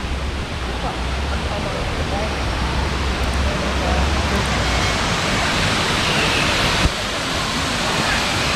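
Jerry waterfalls in the Baba Budan hills of Chikmagalur roar with a loud, steady broadband rush of falling water, close and unbroken throughout.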